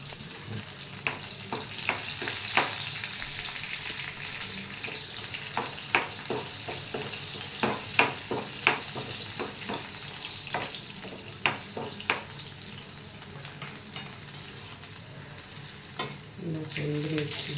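Tempering spices sizzle and crackle in hot oil in a pan, a steady close frying hiss dotted with sharp pops and occasional stirring, without talk.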